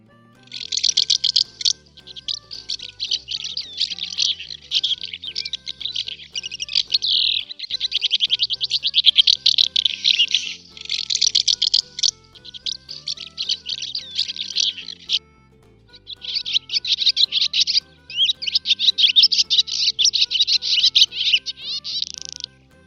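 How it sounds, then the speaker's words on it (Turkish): House martin calls seen from a balcony: long runs of rapid, buzzy twittering chirps, loud and close, broken by a few short gaps, with faint low tones underneath and no talking. "Önce ev kırlangıcına bakalım sesiyle birlikte bakıyoruz."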